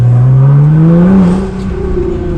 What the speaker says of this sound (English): just a little acceleration from 20 to 30 like that, just making some noise